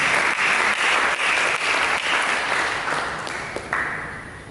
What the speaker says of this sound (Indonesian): Berikan tepuk tangan bagi